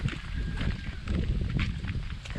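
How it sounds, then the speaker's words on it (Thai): Wind gusts outdoors buffet the microphone with a loud, steady rumble that swells and eases for a couple of seconds, with no talking. "โอ้ยลม"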